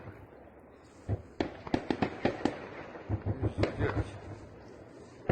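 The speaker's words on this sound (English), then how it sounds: "Here's a clip of that firefight" Gunfire in a firefight between infantry and an armored personnel carrier in Russia, sharp distant cracks in irregular bursts and rapid clusters over background noise, no talk.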